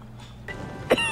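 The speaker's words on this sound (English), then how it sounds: "Why are you coughing, ma'am?" A woman gives a short cough, one sharp close burst near the end after a brief throat-clearing sound, with quiet room tone before it.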